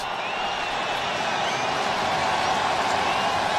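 Crowd at a Toronto Blue Jays home baseball game against the Oakland A's, a steady, even stadium murmur that buzzes continuously with no distinct cheers or claps standing out.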